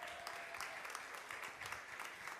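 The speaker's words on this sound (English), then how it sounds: "Please give Reverend Pam another round of applause." Audience applause fills a church Christmas pageant, a steady crowd clapping that carries on evenly without talk.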